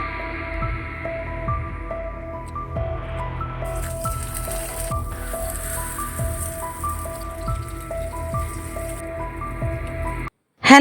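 Morning rain falling outside a home, a steady, even patter that continues for about ten seconds before a brief abrupt knock near the end.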